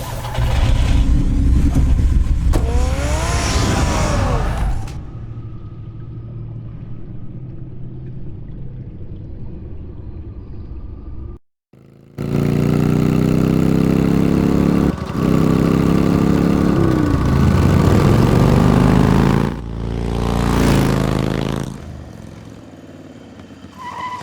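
Batman's car engine in Batman: The Telltale Series rumbles loud and steady for several seconds. It cuts out briefly, then returns with a rising roar.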